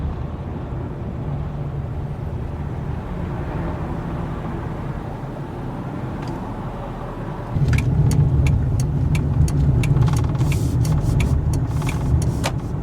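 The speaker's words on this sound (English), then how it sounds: "This is heavy traffic time of the morning." Cars pass in heavy morning commuter traffic, heard from inside a moving vehicle as a steady low road and engine rumble that grows louder midway, with sharp ticking clicks in the second half.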